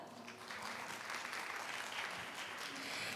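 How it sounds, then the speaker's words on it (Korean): An audience at the opening ceremony of the 2024 Seoul Big Data Campus competition applauds, the dense clapping sustained and steady throughout, heard from within a large hall. "따뜻한 박수 고맙습니다"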